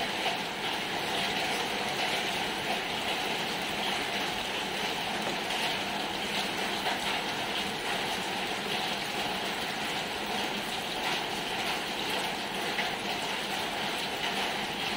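Steady running water hisses continuously while dishes are washed with Sunlight dish soap, an even, close wash of noise with no clear pauses.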